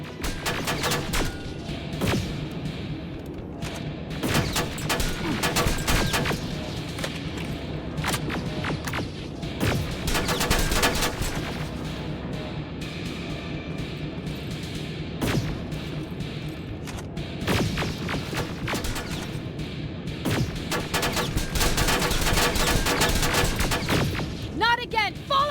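Sustained gunfire and heavy booms from the video game Terminator Resistance, with repeated bursts and impacts running steadily under voices and game noise across the whole stretch.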